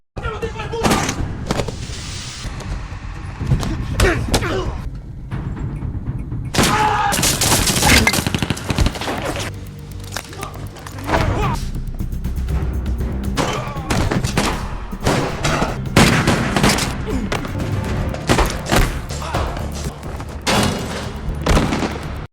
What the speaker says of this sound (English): The gunfight ensued fiercely.